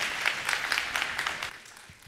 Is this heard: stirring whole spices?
no